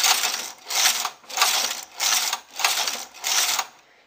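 A knitting machine carriage knitting a strapless top slides back and forth in six even swooshing passes, each a loud rasping run with brief pauses between strokes, close by with no talk.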